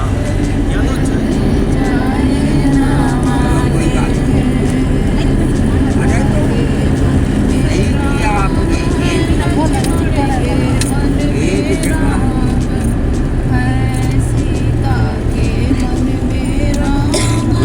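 A vehicle engine runs steadily beneath continuous conversation as the car drives along a forest road near Chitrakoot, a constant low rumble under the voices throughout.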